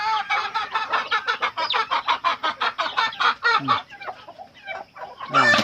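Chicks and chickens kept on a small farm make a noisy racket before they are fed: dense, continuous peeping and clucking, close and steady with no talking.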